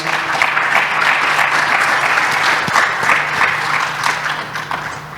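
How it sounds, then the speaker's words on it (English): Warm, sustained applause from an audience at the close of a talk, with many hands clapping steadily at close range and the sound tapering off at the end. "Warm round of applause, please, guys."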